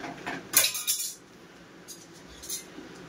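Pasta with fried potato and onion stirred in a pan, with a couple of bright metallic clinks and clatters of a spoon against the pan in short bursts, separated by a quiet stretch, close by.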